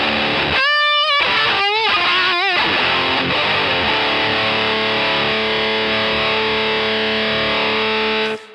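Electric guitar run through a Boss HM-2 Heavy Metal pedal stacked after Tube Screamer and Klon Centaur style overdrives, set to full distortion: a few sharp chords first, then one loud, thick, fuzzy chord ringing on for several seconds before cutting off.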